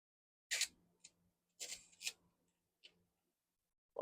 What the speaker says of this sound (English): Film advance.